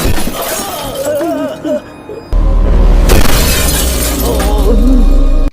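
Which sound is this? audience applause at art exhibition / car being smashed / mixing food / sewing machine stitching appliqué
car being smashed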